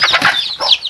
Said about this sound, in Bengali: আমি মুরগি ছাড়বো এখন।